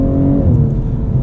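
BMW M240i xDrive with a torque-converter automatic, its engine roaring loud and close as it revs and drops through a quick upshift in a single brief burst.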